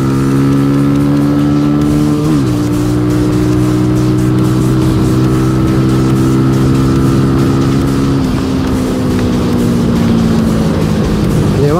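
Rouser 220cc motorcycle engine accelerating hard through its gears, loud and close, with steady rising revs broken by two gear changes, no talk.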